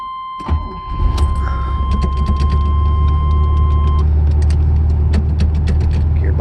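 A 1981 Chevrolet Corvette engine cranks and catches after a warning chime, then settles into a steady, loud, close idle with a deep rumble and some ticking.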